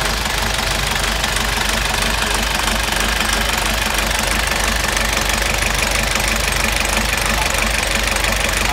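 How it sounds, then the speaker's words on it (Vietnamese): A four-cylinder engine running in a repair shop, a loud, steady mechanical drone with a continuous knocking rattle, close to the microphone and unchanging throughout. "Động cơ này 4 xi lanh ha."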